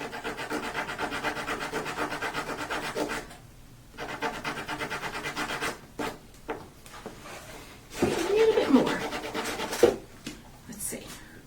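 Wooden thread spools being sanded to fit, with steady rhythmic rubbing and rasping strokes up close, broken by pauses, bumps and handling noises, while a person talks between bursts.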